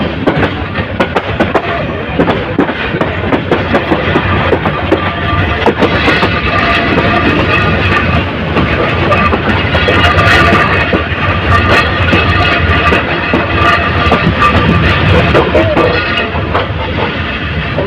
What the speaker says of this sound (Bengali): এই যে ট্রেনটি বাক নিয়ে রেল স্টেশনে প্রবেশ করছে